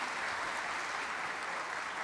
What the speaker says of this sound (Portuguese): Vamos aplaudir o Espírito Santo de Deus